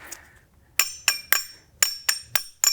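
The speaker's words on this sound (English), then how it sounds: "This plastic cap pops off. A couple taps of the hammer." Sharp metallic taps of a hammer knocking a plastic cap off an Audi A4 front shock absorber, two groups of three, crisp and ringing with brief pauses between, close by.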